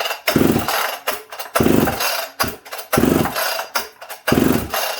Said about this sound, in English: Put it on fast idle. This thing's hard to start without a bar.